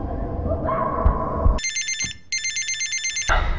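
Telephone ringing in a kidnapping drama: two loud electronic rings with a rapid trilling pulse, separated by a short pause, following a stretch of dramatic background music and cutting back into music afterward.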